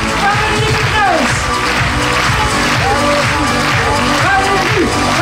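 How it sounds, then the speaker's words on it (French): A large crowd at a French political rally applauds and cheers for Valérie Pécresse. The applause is loud and continuous, with voices shouting and chanting over the ovation. "Je vous fais un peu d'applaudissements."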